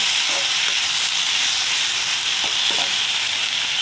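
Brinjal pieces sautéing in hot oil for a Karaikudi-style brinjal kuzhambu give a steady, close, dense sizzle with a few soft stirring knocks.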